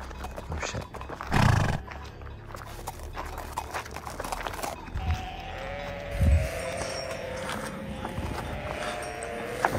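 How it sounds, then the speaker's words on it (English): A wild horse close by on a mountain outing, with two loud low snorts or blows around 1.5 and 6.3 seconds over steady outdoor background noise; no one speaks. "wild horse"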